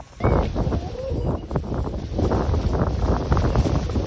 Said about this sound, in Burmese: ဒီလိုနဲ့ကျွန်တော်တို့တောင်ပေါ်ရောက်ခံနေတဲ့အချိန်မှာတော့လေတွေတိုက်လာပြီးတော့မိုးတွေလည်းကျလာခဲ့ပါတယ်